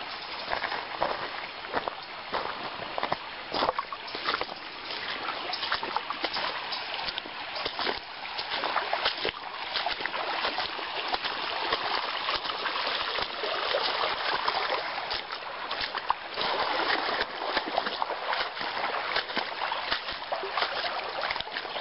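Water rushes and trickles continuously over rocks in a creek, with scattered splashes and light movement nearby.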